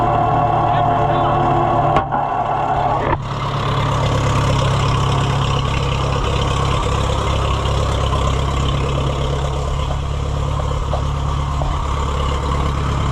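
A pasture sprayer tractor's diesel engine is running steadily after starting, with a loud, close, low idle rumble throughout and a couple of brief clunks and knocks early on.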